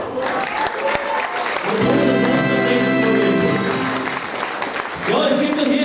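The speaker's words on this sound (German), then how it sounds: "Beide Stücken sind ein Applaus wert" Sustained audience clapping in a hall at a carnival session. It runs for several seconds under a held musical tone and voices, with the claps thinning toward the end.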